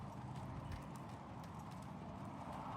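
Hoofbeats of a Missouri Fox Trotter named Champ working at walk and trot in training, a steady rhythmic clip-clop over a constant broadband background with no talk.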